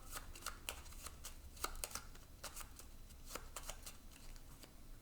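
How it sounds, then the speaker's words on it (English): Playing cards for a solo board game are shuffled by hand up close, a steady run of crisp riffling snaps and flutters at low volume, with no talking. "So let's shuffle this up."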